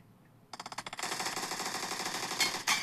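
Rapid gunfire from a shooting video game, starting as a string of distinct close shots and then merging into a dense, loud, sustained automatic burst with a few sharper cracks near the end.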